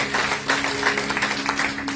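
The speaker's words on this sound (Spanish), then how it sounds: "Denle un fuerte aplauso al Señor" Congregation in a Sunday church service breaking into loud, sustained applause, a dense wash of clapping hands filling the room for two seconds with a steady tone humming underneath.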